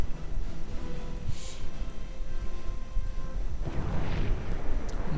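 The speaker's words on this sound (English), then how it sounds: "More mines going off, I fear" Landmines going off in a World War II strategy game, heard as muffled low booms and rumbling blasts under steady battlefield noise, with a heavier burst near the end.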